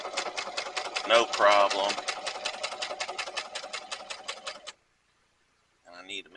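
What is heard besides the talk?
sewing machine stitching leather onto a tote bag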